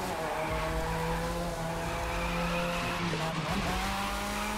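Car drifting in the video game The Crew 2 at a harbor, steel plant and airport terminal, with a steady engine drone and long continuous tire squeal throughout.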